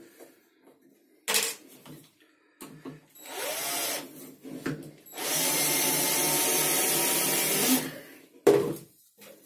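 Power drill boring holes for the legs of a bathroom cabinet, several short whirring bursts followed by one long sustained run of several seconds, close and fairly loud.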